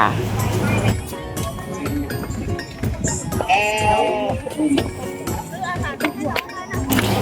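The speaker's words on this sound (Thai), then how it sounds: "ที่ได้ยินนั่นคือเสียงแกะนะคะร้องว่าแม่" Sheep bleat repeatedly at a sheep and alpaca farm at Mon Jam in Chiang Mai, several wavering calls from nearby over a busy background of people talking and crowd murmur.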